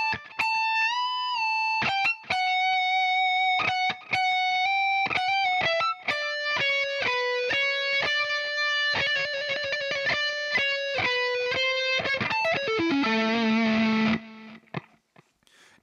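A slow distorted electric guitar line playing the outro, each picked note ringing clearly with a slightly processed tone, ending in a descending slide and a sustained low note.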